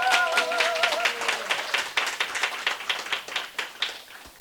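A seminar audience claps, starting as dense applause and thinning into sparser, distinct claps that fade toward the end, with a brief tonal voice-like sound at the start.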